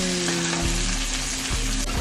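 A steak quesadilla fries in a hot pan with a loud, steady sizzle and crackle that runs without a break from start to finish, close and dense, with no voices.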